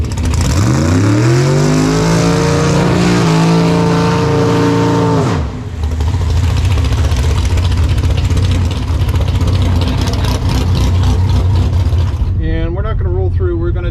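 A Tesla in dragster mode launches down a quarter-mile drag strip, its rising electric whine climbing steadily in pitch, then a louder, rougher roar of motion and wind as speed builds, with voices talking over it.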